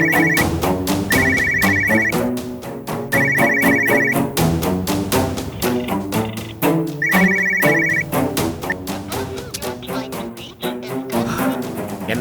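A telephone rings in a Tamil TV serial scene, its bell sounding in repeated short bursts every couple of seconds over loud, continuous background music.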